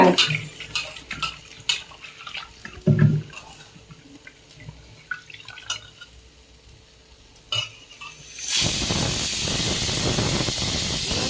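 Ingredients for a goat leg soup being washed in water: scattered splashes and handling clatter at first, then a loud steady rush of running tap water near the end, without speech.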